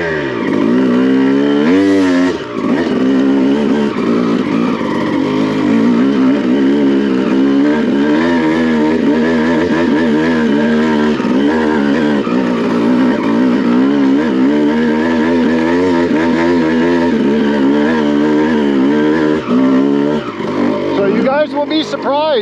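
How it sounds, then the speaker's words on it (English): A Honda CR250 two-stroke motocross bike chugs steadily up a steep hill climb, its engine note loud and continuous throughout, wavering in pitch as the throttle is held low without momentum. "How steep a motorcycle will climb without standing, like without using momentum, you know, just letting it chug."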